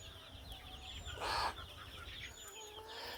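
Backyard chickens just let out of their coop cluck and chatter at a low level, with one louder squawk rising briefly in the middle amid scattered bird calls.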